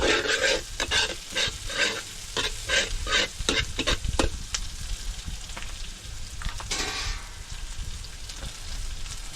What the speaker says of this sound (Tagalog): Nakatunog na naman ang kawali mga kautol.